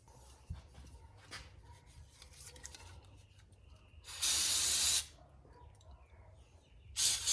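Carburetor cleaner sprays onto the outside of the carburetor of a Stihl MS180C chainsaw, two sharp aerosol hisses, the first about a second long and the second cut short, over a quiet background.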